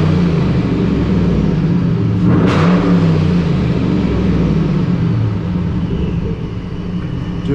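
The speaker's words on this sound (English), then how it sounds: "Just by romping the gas right there, you see it built a little bit of boost." A Ford Mustang Bullitt V8 fitted with a Vortech supercharger revs loudly at close range, a sustained deep rumble that swells as the throttle opens, with no talking.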